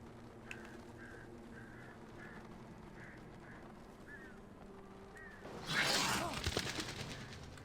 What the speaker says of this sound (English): Frickin' bird scared the crap out of me.